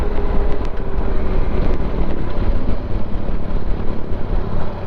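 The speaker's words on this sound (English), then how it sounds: "I'm kind of coming around to the noise of the bike. The bike actually sounds fantastic." A Yamaha Tenere adventure motorcycle engine drones steadily while riding on gravel roads, a loud continuous rumble mixed with wind roar and no talk.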